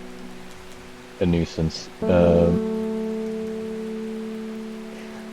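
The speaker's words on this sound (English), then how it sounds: "rain sounds, so that might be making the music warbly" Steady soft rain hiss runs throughout as a constant background wash, while a voice speaks briefly over it with a couple of short tonal sounds.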